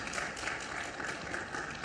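A crowd at a public health event applauds a Madhya Pradesh medical education minister, giving a steady dense wash of clapping that holds for the whole short stretch with no clear voices.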